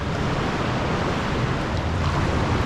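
Ocean waves surge around a small boat inside a dark sea cave on the Portuguese coast, a dense continuous roar of churning water and wind, loud and close.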